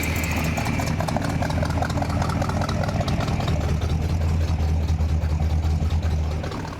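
A 1958 Chevrolet Apache Fleetside pickup idling without real mufflers and still burning off oil after a long-stored carburetor, giving a loud, close, steady rumbling drone with a deepening low throb partway through.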